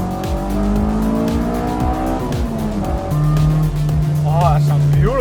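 Inside a Honda S2000 fitted with an Invidia Q300 exhaust, the engine revs up and down through repeated rising pitch sweeps as the car drives, loud and close in the cabin, with a steady drone near the end and a person talking briefly.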